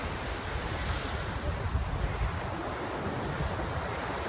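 Ocean waves roll onto a beach in a continuous, fairly soft surf wash mixed with gusty wind buffeting the microphone, with no talking.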